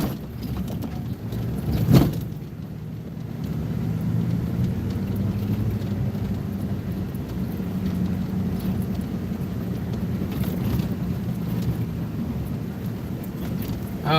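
A car or off-road vehicle grinding up a muddy hill, with a steady low engine drone and occasional knocks and bumps, heard close without talk.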